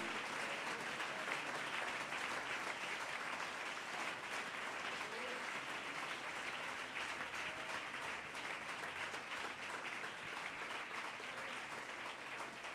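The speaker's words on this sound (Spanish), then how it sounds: "Dele ese aplauso al Señor." A church congregation claps during a Spanish-language sermon, a faint, distant and steady patter of many hands that continues evenly for several seconds, with some voices underneath.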